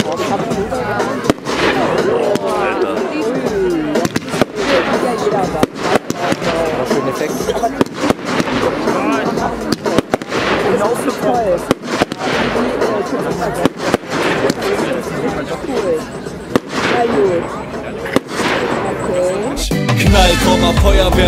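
Babel fireworks from Jorge crackle and pop continuously in a dense, rapid barrage of bangs, while a singing voice runs over them throughout.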